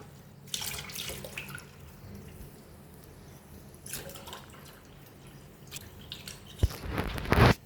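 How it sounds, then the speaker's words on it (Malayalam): Grapes swished and rinsed in a cup of water at a sink, with faint intermittent splashing and trickling near the mic, a few brief water bursts, then louder clinking and splashing toward the end. "അതേ കപ്പിൽ തന്നെ ഇച്ചിരി കൂടെ വെള്ളം നിറച്ച് അതിനകത്ത് പിന്നെയും മുന്തിരിങ്ങയിട്ട് കഴുകുന്നുണ്ട്"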